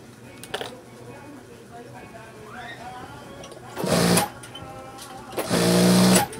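A sewing machine stitches a military uniform in two loud bursts, a short one followed by a longer run, standing out against a quiet room with faint background sounds between them.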